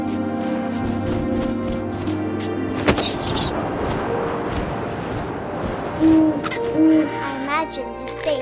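Owl hooting in the video game What Remains of Edith Finch, deep tonal hoots over soft ambient wind and game score, with a sudden low boom partway through and a few clearer hoots near the end.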